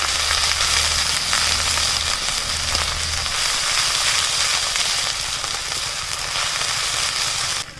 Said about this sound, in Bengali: আদা ও রসুন খুব ভালো করে ভেজে নিয়েছি